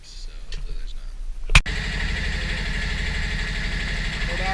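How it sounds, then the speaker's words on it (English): Sailboat motor cranking and catching with a sharp burst, then settling into a steady, loud idle that runs to the end, after a quiet stretch of faint shuffling and murmurs. "We're about to start the motor up and see if there's any oil leaks"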